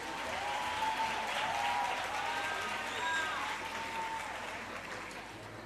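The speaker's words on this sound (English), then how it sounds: "Please give them a round of applause," At a campus community safety programme launch at the University of KwaZulu-Natal, an audience applauds after a signing, soft, distant steady clapping with faint voices and tonal sounds mixed in, easing slightly toward the end.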